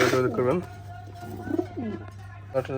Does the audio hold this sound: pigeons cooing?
yes